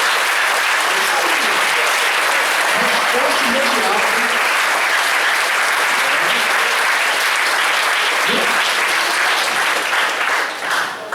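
A church congregation at an Assembleia de Deus Sunday worship service breaks into loud, sustained applause that fills the room for several seconds, with a voice speaking over the clapping.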